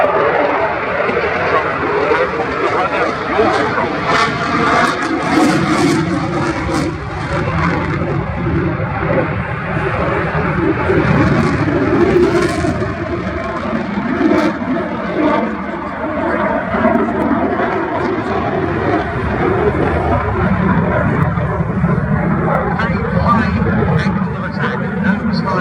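Eurofighter Typhoon jet flying an air display at an airshow, a continuous distant engine roar under steady commentary from an announcer.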